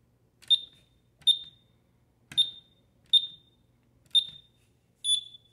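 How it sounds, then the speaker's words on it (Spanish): Six short, high electronic beeps from an ADT alarm keypad in a commercial shop as the disarm code is entered, spaced roughly a second apart, clear and close against near silence. "hemos introducido los cinco números que son necesarios para desactivar la alarma"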